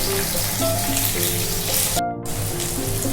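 Pumpkin pieces fry in a pan with a continuous close sizzle and hiss, briefly cutting out for a moment before resuming.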